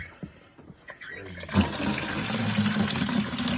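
After a few quiet knocks, dirty water begins gushing and splashing steadily and loudly, like liquid pouring hard into a basin.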